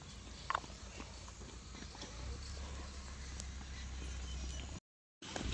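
A herd of goats shuffling toward scattered maize feed on a farm, with soft irregular hoof steps and a few sharper knocks early on, steady rustling under a low rumble, and a brief silent gap near the end.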